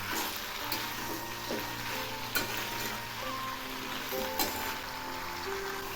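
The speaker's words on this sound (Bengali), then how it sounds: "এখন আমি এগুলি নেড়ে দিচ্ছি।" Curry of Malabar spinach seeds and leaves frying in a pan, a constant bubbling sizzle with a low hum and a few light utensil taps as it is stirred, close and steady with no speech.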